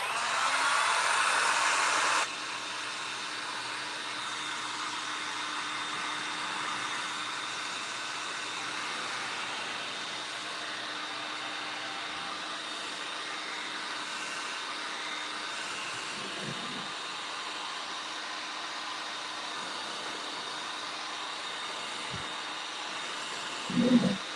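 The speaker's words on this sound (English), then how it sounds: "I'm going to use my dryer a second" A hair dryer blows steadily at close range, a continuous whirring hiss that holds for the whole stretch, with a brief louder burst at the start.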